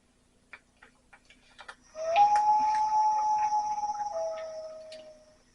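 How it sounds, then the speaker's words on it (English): Mobile phone going off in a kitchen: after a few faint ticks, a single sustained electronic tone rings for about three seconds before stepping lower and fading, near and moderately loud, with no talking. "That's just my phone going off."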